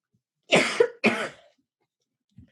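Two sharp, close coughs in quick succession, followed by silence and a faint short sound at the end.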